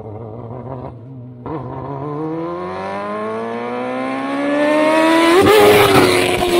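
A 300hp electric cross kart accelerates hard, its motor whine climbing steadily in pitch and growing louder over several seconds, close and with no talking.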